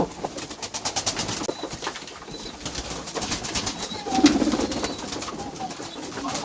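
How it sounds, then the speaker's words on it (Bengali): Pigeons coo and rustle while eating feed from a dish, their soft calls and occasional wing flaps close by over a busy background without speech. "কবুতরগুলোকে আমি খাইতে দিলাম দেখেন কত সুন্দরভাবে খাচ্ছে"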